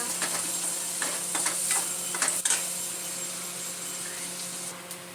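Onions fry in a pan with a continuous bright sizzle, overlaid by quick irregular scraping and tapping of a spoon stirring in the first half, then settling to an even hiss.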